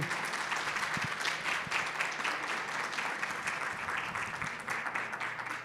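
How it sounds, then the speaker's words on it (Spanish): Audience applause fills a conference hall at an international colloquium, a steady dense clapping from a crowd that runs loud and unbroken for several seconds with no talk over it. "expresarles un reconocimiento por este trabajo a través de un aplauso"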